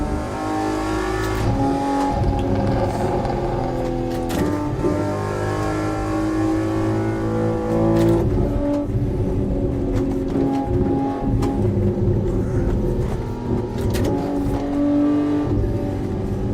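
A car engine accelerates in a racing video game while chasing a Mercedes, a loud, continuous revving roar with rising and falling pitch as it shifts through gears, steady and close for the whole stretch.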